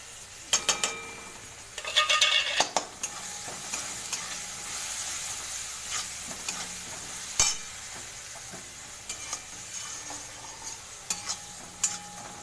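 A prawn curry masala is being sautéed with salt, turmeric and chopped chilli, with a soft steady sizzle under repeated scraping stirs and occasional clinks of a utensil against the pan.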